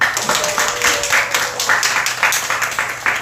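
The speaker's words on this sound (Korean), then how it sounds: "박수!" A church youth congregation applauds after worship, giving brisk, rhythmic clapping that comes in regular pulses at close range and stays loud throughout.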